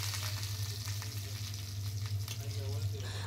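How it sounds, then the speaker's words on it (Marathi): Cumin, green chili and curry leaves sizzle in two spoons of ghee over a low flame, a dense steady crackle and hiss close by, with a low hum underneath and no talk. "फोडणी देण्यासाठी मंद गॅसवरती 2 चमचे तूप घेतले।"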